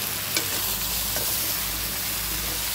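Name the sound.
dried palm sprout curry frying with chilli powder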